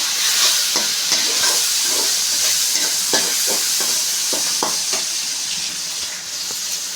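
Chopped tomatoes frying and being stirred in a pan for an Indian rice dish, giving a steady loud sizzling hiss with repeated soft scraping strokes of a spoon throughout.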